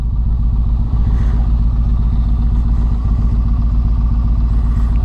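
A motorcycle engine idles loudly and close, its exhaust putting out a steady low, pulsing rumble throughout.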